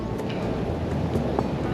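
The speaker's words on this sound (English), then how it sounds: "You can see the wind's a bit strong" Strong wind blows across a beach on Siargao island in the Philippines, a steady, dense roar with buffeting rumble on the microphone and no voices.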